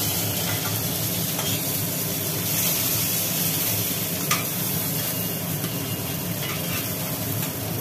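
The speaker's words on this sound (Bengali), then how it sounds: "ভাজা মাছগুলো একটা একটা করে" Pieces of fried rohu fish are lifted one by one from a pan of sizzling oil, with a steady loud frying crackle throughout and an occasional light clink of the utensil.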